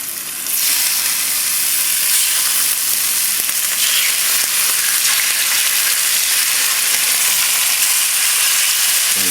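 Chicken cutlets fry in a hot pan with a loud, steady hissing sizzle that starts abruptly and continues unbroken, close and alone with no talking.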